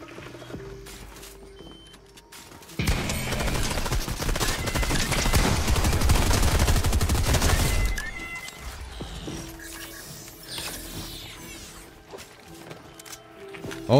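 Sustained SMG fire in a Fortnite duo cash cup match, a dense rapid burst lasting several seconds, loud and close, then dropping back to quieter game ambience.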